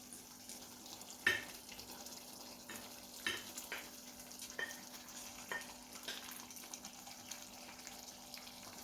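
Salmon and tuna go into a garden egg stew in a pan, which sizzles and crackles steadily with occasional louder clinks and stirring sounds, heard up close with no talking.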